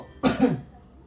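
One sharp, close cough, a short forceful burst, followed by quiet.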